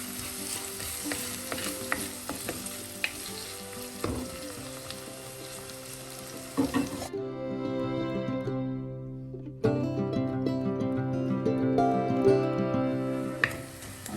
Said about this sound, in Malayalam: ലോ ഫ്ലെയിമിലൊന്ന് വഴറ്റിയെടുക്കാം